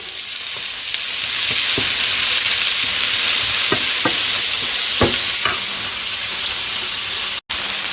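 Onions caramelizing in a pot for French onion soup, a loud steady sizzle with a few scraping stirs against the pot, then a brief silent break near the end.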